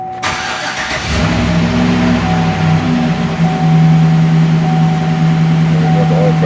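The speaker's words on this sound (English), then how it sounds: "now I'm gonna start it up and see." A GMC/Chevy truck with a 5.3L engine cranks briefly and fires up, then settles into a loud, steady idle close by, with a faint whine above the engine.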